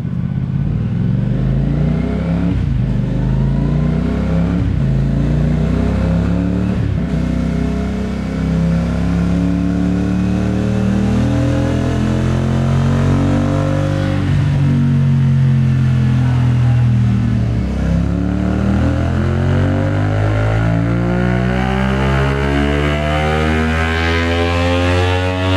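A CFMOTO 450SS sport motorcycle strapped to a dyno revs steadily and loudly, its engine note climbing and falling in sweeping waves with brief dips between pulls, alone without talk.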